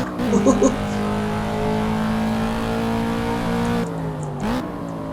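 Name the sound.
video game Ford Mustang engine accelerating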